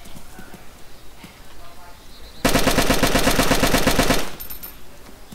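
Rapid automatic gunfire rings out in a multiplayer video game, a dense burst of about two seconds that is loud and close, following faint background sound.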